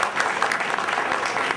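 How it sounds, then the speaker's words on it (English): An audience at a dance performance gives a round of applause, dense continuous clapping from a sizable crowd, steady and loud throughout. "Give them a round of applause."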